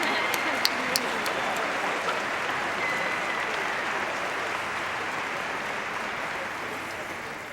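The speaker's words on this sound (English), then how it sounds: "I'd like you to join me in giving a huge round of applause to Mr. Carl Gibbert and the 200-plus musicians who did such a great job today" An audience at a 2001 high school graduation applauds the conductor and a large ensemble of musicians, continuous dense clapping with a couple of sharp claps near the start, fading slightly at the end.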